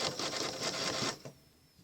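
A quilting sewing machine stitches a Baptist Fan pattern in a rapid, even mechanical chatter for about a second, then stops, leaving a faint hum.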